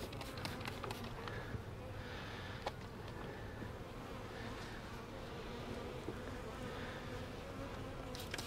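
A tiny honeybee swarm buzzes in a continuous, faint hum, with individual bees droning briefly past up close now and then.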